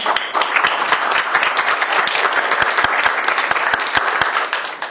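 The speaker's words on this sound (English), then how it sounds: "I want to give her a round of applause" Loud, close applause at a Santa Barbara Navy League gathering for Sally Brown, founder of Santa Barbara Angels, with many individual claps audible through a continuous, even roar that lasts the whole stretch.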